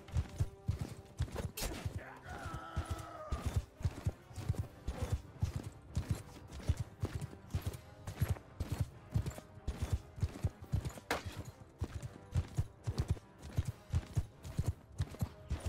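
Horse hooves gallop in Mount & Blade II: Bannerlord, a dense, steady clip-clop rhythm that keeps going, with clashing battle noise layered over it.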